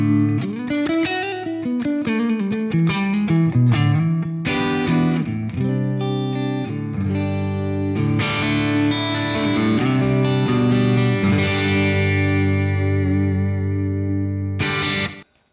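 Electric guitar played through effects including distortion and chorus, running through several tones in a row with chords and riffs, loud and close, ending abruptly without any talk.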